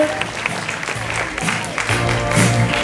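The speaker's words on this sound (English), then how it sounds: "Okay, applause, applause, applause." Audience clapping greets a guest walking onto stage at an Infocomm Ambassadors event, loud and continuous, with voices and cheering mixed in over it.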